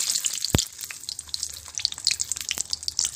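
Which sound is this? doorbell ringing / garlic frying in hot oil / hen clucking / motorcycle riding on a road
garlic frying in hot oil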